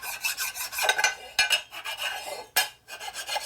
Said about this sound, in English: There with my nice flat file here. It's real fine, so it doesn't really do much. You can hear the high spots in there.